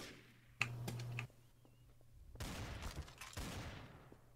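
Sparse gunfire in the multiplayer shooter Trouble in Terrorist Town, a few quick shots and short bursts fairly quiet and distant, mixed with clicking.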